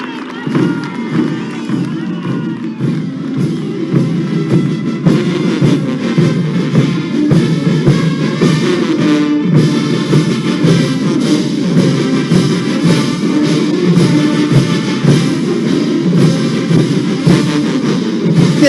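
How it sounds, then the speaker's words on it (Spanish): Large crowd at a military parade in Sucre, Bolivia, producing a dense, sustained roar of applause and cheering babble, loud and continuous throughout. "Brindamos un fuerte y caluroso aplauso,"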